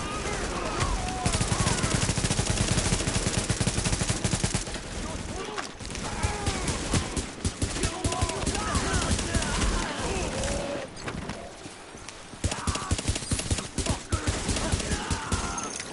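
Gunfire in The Division video game, bursts of automatic weapon fire and shots rattling in dense volleys over several seconds with brief lulls, mixed with game sounds and voices.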